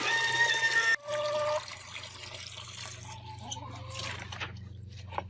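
Tap water runs and splashes into a chicken waterer being rinsed and refilled, first a loud steady gush, then a quieter trickle with scattered drips and light plastic knocks.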